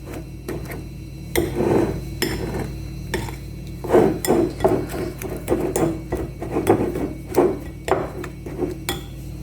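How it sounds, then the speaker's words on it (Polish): Butter, sugar and flour are mixed in a bowl for a crumble topping, producing irregular clinks and knocks of a utensil against the bowl, close up. "Mieszamy, słuchajcie, masełko z cukrem i mąką"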